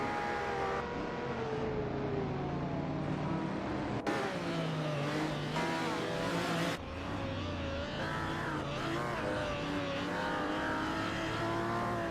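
Vintage supercars race in a video game, their engines revving and droning continuously with shifting pitch as cars accelerate and pass. The engine noise is loud and unbroken, with no voices.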